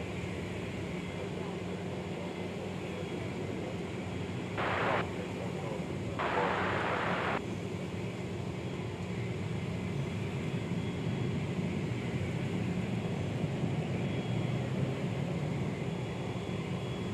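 A Boeing 787-9 departs DFW Airport as a steady, distant broadband jet roar, with two short hissing bursts partway through.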